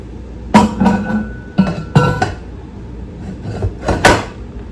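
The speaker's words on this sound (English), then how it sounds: "I'm gonna put my lid on" A lid set onto a container in a quiet room, giving several close, sharp knocks and clinks spread over a few seconds with short pauses between them.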